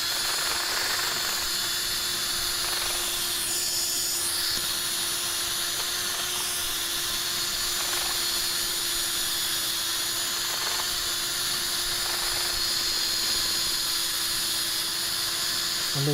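A lathe spins an oak burr bowl with a steady motor whine while 120 grit abrasive rasps against the wood in a continuous hiss, with brief swells as the sanding pressure shifts.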